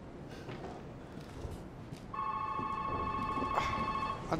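An old telephone rings in a derelict house in the Resident Evil 7 video game, a steady electronic bell tone that starts partway through and continues over quiet ambient game noise and footsteps.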